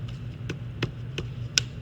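A PCV valve is bumped down into place on a VW TSI engine, giving about five sharp, evenly spaced taps close by, each a brief dull knock, with the last one slightly louder.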